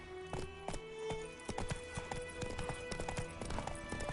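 Roach, Geralt's horse in The Witcher 3, trotting along with a steady run of hoof clip-clops, the rhythm fairly close and clear, with faint game ambience behind it.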